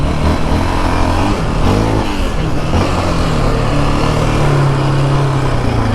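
Engine of a 2024 Yamaha Raptor 700R ATV while riding, a loud steady drone with a buzzy, lawnmower-like stock exhaust note and slight pitch shifts as the throttle changes, close and continuous.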